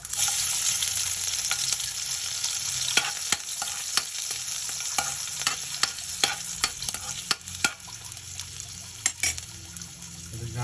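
Chilli sautés in a hot pan for spicy pork adobo, a loud continuous sizzle broken by repeated scraping stirs and clicks of a utensil against the pan, with no voices.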